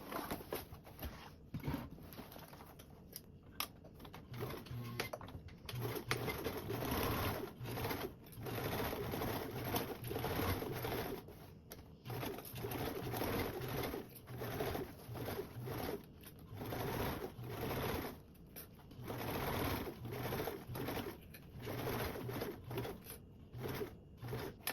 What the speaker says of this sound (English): Now I'm going to sew these two short edges with a 1/4 seam